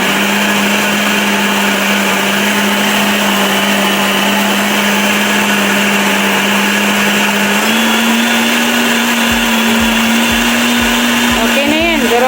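A blender crushes mushrooms for mushroom soup with a loud, steady motor whine. The pitch steps up partway through as the speed rises, and rattling and shifting sounds come near the end.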